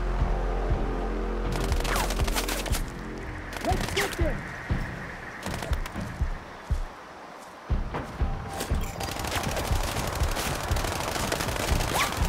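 Gunfire in the video game Sniper Ghost Warrior Contracts, bursts of shots and rapid machine-gun fire that come and go over the course of the sequence, with someone talking over the game sounds at times.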